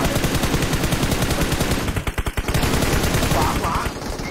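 Rapid automatic gunfire in a video game shooter match, dense rhythmic bursts of shots, loud and continuous, with a brief sharper volley midway.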